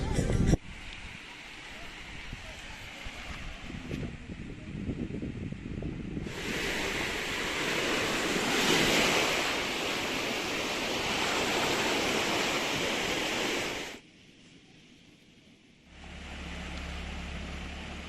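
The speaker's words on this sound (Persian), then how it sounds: "برای اولین بار بعد از وارد شدن به ترکیه رسیدیم به دریا و بندر مرسین" Sea waves roll in at the port of Mersin, Turkey, a broad, loud surf roar mixed with heavy wind buffeting the microphone, swelling in the middle before briefly dropping away and returning.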